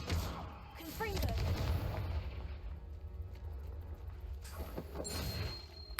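In Hogwarts Legacy, a booming Confringo fire blast rumbles out with crackling bursts over continuous game noise, and a voice is heard briefly near the start.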